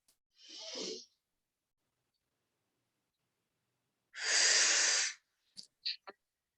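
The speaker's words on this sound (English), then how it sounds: "breathing in through the nose" Two soft nasal inhalations during yoga breath work, a short one and then a longer, fuller breath, each followed by faint sniffs in a quiet room.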